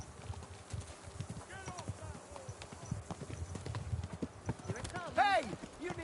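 Horse hooves clip-clop steadily along in Kingdom Come: Deliverance II, the close, hollow footfalls running throughout beneath spoken voices, with a brief whinny-like call rising near the end.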